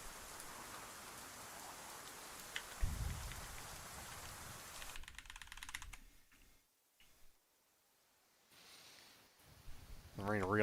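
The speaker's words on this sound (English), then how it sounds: "The rain really came in." Rain in the DCS World flight simulator during a Blue Angels airshow solo practice: a steady hiss of rainfall that runs for about five seconds, then drops away to near quiet with brief returns.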